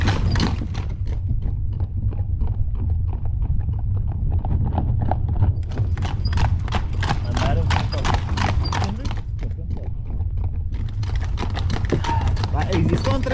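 Horses' hooves clip-clop in a brisk, steady rhythm on a hard surface, loud and close, with a horse neighing and people talking over the hoofbeats.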